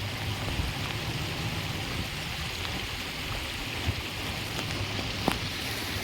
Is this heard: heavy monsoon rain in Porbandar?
yes